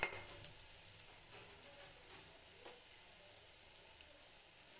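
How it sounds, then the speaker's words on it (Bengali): Onions and green chillies fry in oil in a pan, giving a faint, steady sizzle with a few soft stirring touches, quiet and close with no talk. "এখানে আমি পেঁয়াজ কাঁচামরিচগুলোকে আগেই তেলে ভেজে নিচ্ছি"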